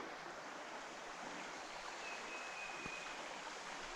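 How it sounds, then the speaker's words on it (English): Creek running at a fly-fishing spot for wild brown trout, a constant close, full rushing wash of flowing water with no pauses and no voices. "Finally made it to the creek."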